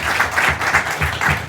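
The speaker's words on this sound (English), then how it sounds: "Let's give a big applause" Audience applause at a business talk, a steady burst of many hands clapping close by with a slightly pulsing rhythm and no voices over it.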